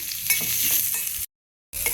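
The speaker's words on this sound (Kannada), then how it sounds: "ಇದಕ್ಕೆ 1 ಈರುಳ್ಳಿನ ಹಾಕಿ ಹುರಿಯೋಣ. ಅದ್ರ ಜೊತೆಗೆ ಶುಂಠಿ ಹಾಗೆ ಬೆಳ್ಳುಳ್ಳಿನ ಕೂಡ ಹಾಕಿ ಕೆಂಪಗಾಗೋ ತನಕ ಹುರ್ಕೊಳ್ಳೋಣ" Onion, ginger and garlic fry in a pan, a steady close sizzle broken by stirring scrapes, with a brief dropout near the end and no talk.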